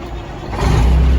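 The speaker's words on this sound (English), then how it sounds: "Engine start." A Kenworth needle-nose truck engine turns over and catches, rising into a steady, loud low rumble that idles close by.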